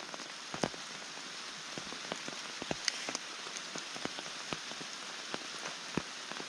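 Heavy cold rain pours steadily on an outdoor surface, a dense hiss with scattered sharp drips and splats throughout, fairly close and continuous with no talking.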